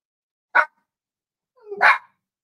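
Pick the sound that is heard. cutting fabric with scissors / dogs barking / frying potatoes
dogs barking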